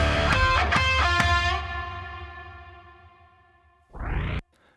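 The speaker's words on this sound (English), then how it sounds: "you can hear the reverb hanging on across the gap there" Music cuts off and a long reverb tail rings on across the gap, decaying slowly for a few seconds before a short swelling note enters and stops abruptly.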